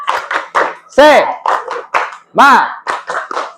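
A school classroom does the rhythmic 'tepuk semangat' clap: crisp, close patterns of group hand claps in quick bursts, with voices chanting along in time between them.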